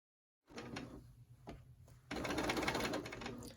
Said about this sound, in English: I'm sewing like I'm a left-handed person